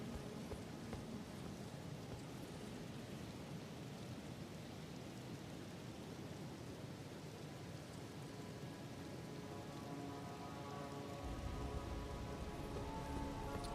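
Steady rain in the Elden Ring video game, a continuous dense hiss of falling drops with low thunder-like rumble, constant and moderately loud throughout, heard alone.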